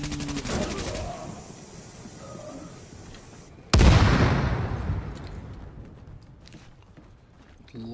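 Gunfire rings out in Tom Clancy's The Division: a sharp burst of shots at the start, then one loud blast around the middle that decays into rumbling, with scattered quieter pops afterward.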